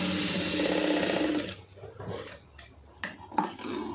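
A sewing machine stitches a grape silk blouse cup in a steady, close whirring run that stops partway, followed by scattered light handling clicks.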